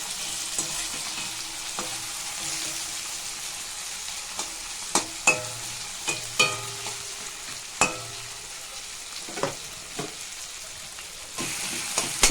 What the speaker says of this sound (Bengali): টমেটোটা কুচি করে নিয়েছি, এটা একটু আমি তেলে নেড়ে নিচ্ছি।